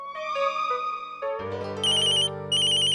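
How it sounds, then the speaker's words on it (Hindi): A phone ringtone plays in a Hindi TV drama scene, a bright electronic melody of sustained tones that shifts into a higher, repeating beeping pattern, loud and alone. "आरोही, चीकू का फोन है"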